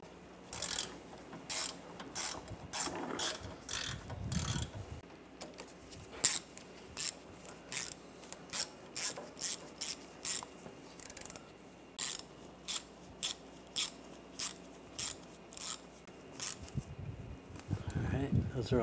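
Hand ratchet tightening water pump bolts on a 2009-2013 BMW 328i xDrive 3.0L inline-six, repeated bursts of quick sharp clicking in regular strokes with short pauses between bolts, close and crisp, with a voice speaking now and then.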